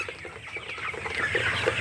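Broiler chickens on a poultry farm cluck in a dense, overlapping flock chorus, steady and fairly close, with many birds calling at once and no voices.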